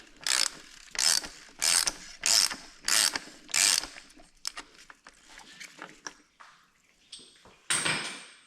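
A socket wrench ratchets loudly in six evenly spaced bursts of clicking while loosening the oil filter housing on a 2019 VW Golf R mk7.5, followed by lighter scattered tool clicks and handling noises.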